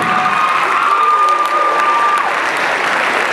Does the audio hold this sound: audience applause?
yes